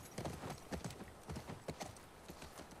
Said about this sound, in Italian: Bravo cavallo che fa le scale.